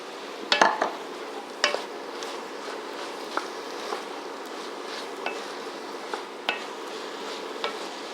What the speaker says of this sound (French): Comme ça, je mélange bien.